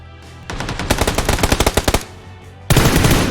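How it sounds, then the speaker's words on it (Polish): Gunfire in PUBG rings out as a rapid burst of about a dozen sharp shots, followed after a brief gap by another loud volley. "Jeden, drugi są strzały, podchodzimy."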